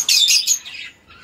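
Lovebirds in a breeding setup let out a few shrill, close squawks and chirps in a quick run, loudest at first and then fading into softer calls.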